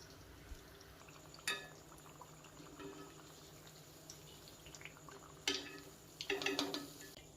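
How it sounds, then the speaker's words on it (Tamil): Tamarind frying in heated palm oil gives a soft, quiet sizzle, broken by a few brief crackling bursts that grow busier toward the end. "அந்த புளி அந்த எண்ணெயிலேயே பொரிஞ்சு நல்ல கருப்பாயிடும்"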